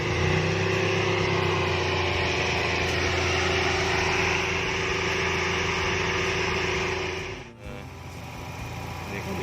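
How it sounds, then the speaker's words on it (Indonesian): A Mercedes-Benz C180 W202 engine idles smoothly and steadily at close range, its even hum continuous with a brief dip in level near the end. "Ya, mesinnya sudah halus, sudah enak ini mesinnya."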